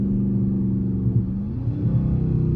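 A Dodge Charger R/T pulls hard in second gear with the windows up, its deep engine drone rising steadily in pitch inside the cabin.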